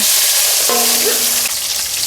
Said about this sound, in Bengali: ফুলকপি ভাজার তেলে পেঁয়াজ কুচি টমাটাম কুচি দিয়ে দিচ্ছি